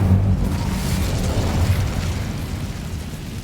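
Incendio fire spell bursting in the Hogwarts Legacy video game, a loud close whoosh and boom at the start that rumbles and fades steadily over a few seconds.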